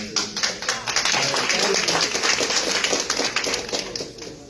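Sustained applause from a conference audience at the 2025 Jamaica Diaspora Northeast Conference, dense steady clapping filling the room throughout without pause.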